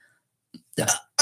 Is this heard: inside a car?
no